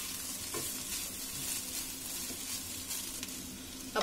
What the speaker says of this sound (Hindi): अभी हम लोग हल्का राइस देके पहले इसको मिक्स कर लेते हैं